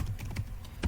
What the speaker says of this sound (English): Simply I am typing the same thing once again